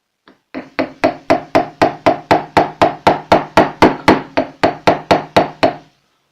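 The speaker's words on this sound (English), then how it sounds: "we'll just finish it off with a larger nail just to get it to sit flush. Try not to hit the camera with the hammer here." A hammer drives a nail against a roll pin set in an aluminium bolt carrier, giving about twenty evenly spaced, sharp metallic taps at a steady rhythm, close and loud.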